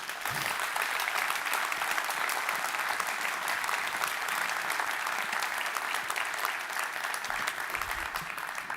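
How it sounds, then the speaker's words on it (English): Audience applause at a live product launch event, dense sustained clapping from a large crowd filling the whole stretch at steady strength. "I would humbly request like a big round of applause"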